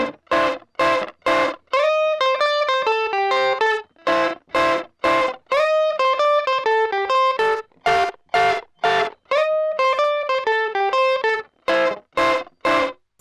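Crunchy distorted electric guitar in a rockabilly style trades short stabbing chords with quick melodic single-note runs, call-and-response fashion, played loud and alone with a steady rhythmic bounce.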